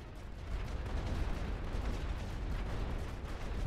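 Dense, continuous rumble of World War One artillery and gunfire in a Western Front strategy game, a loud low barrage of overlapping booms with no pauses.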